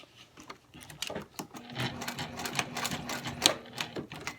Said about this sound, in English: just stitch and stitch these 2 sections together